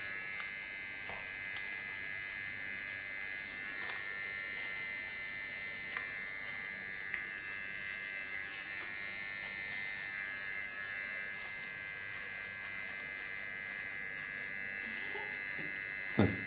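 Hair clipper buzzing steadily during a nape shave for a bob haircut, a constant close electric drone with occasional small clicks and bumps, no talking.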